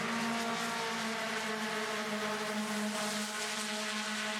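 Idemitsu Mazda MX-5 Cup race cars from 2022 cross the finish line at Virginia International Raceway, with a continuous, loud, high engine drone from several cars at full throttle that holds steady throughout.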